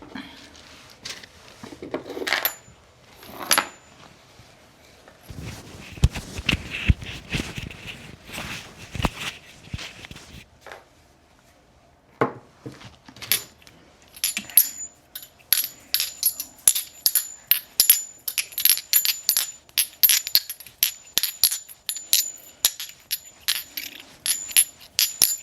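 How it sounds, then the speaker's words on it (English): Astrology dice tumble and clatter on a hard surface, with bursts of sharp clicking at first. After a quiet stretch comes a long run of rapid, close rattles and taps. "I'm going to roll the astrology dice and pull some initials"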